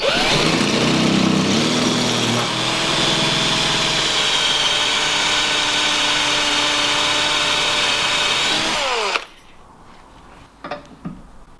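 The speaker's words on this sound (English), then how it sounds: "I'm going to drill the end of the bolt out" A power drill bores into the end of an M6 cap head bolt, running loud and steady for about nine seconds before winding down. A few faint knocks follow in the quiet afterward.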